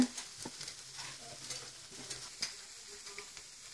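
Potato stuffing with coriander leaves mixed in a pan with the stove off, soft scraping and tapping strokes of a spoon at irregular intervals over a faint hiss, quiet and close.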